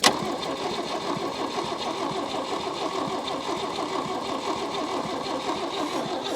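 After a sharp onset, the engine of a 1961 Chevy Biscayne pulled from a junkyard after more than 30 years runs with a steady, even, rhythmic mechanical churn, loud and close for the whole stretch.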